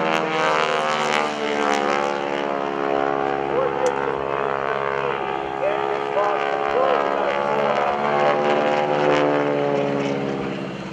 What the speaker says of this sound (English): Now Bill Leff is going to slow things down too into the super slow roll